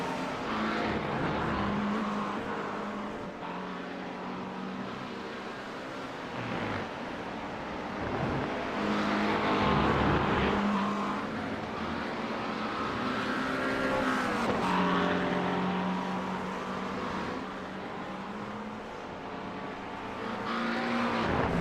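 Race cars lap Road Atlanta in a racing video game, engines droning and rising and falling in pitch continuously as cars pass through corners, steady and loud throughout.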